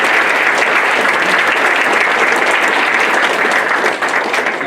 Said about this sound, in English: can we give that team another round of applause?